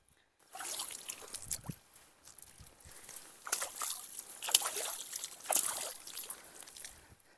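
Gentle splashing and trickling of clear river water at the confluence of the Nira and Gunjawani rivers as a hand dips and swirls in it, with soft sloshing bursts repeating over several seconds.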